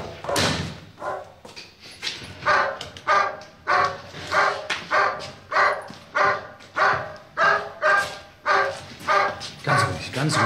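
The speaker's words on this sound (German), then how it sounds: "Dieses Gebell macht mich noch ganz krank." A dog barks over and over in a steady run of loud, evenly spaced woofs in a scene from the German crime drama SOKO Leipzig, with a few dull thuds mixed in.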